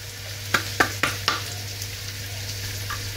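Spring onion and garlic hit hot oil in a pan for hake in green sauce: a soft, quiet sizzle punctuated by four sharp clacks of utensil against pan in quick succession near the start, then a low steady hum.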